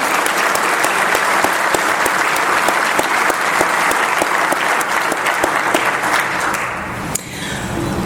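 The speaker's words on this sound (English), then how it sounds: "Let's give Jim one more round of applause." A room full of guests at a police awards luncheon applauds, a loud, dense crowd clapping with sharp individual claps standing out, sustained for about seven seconds before dying away.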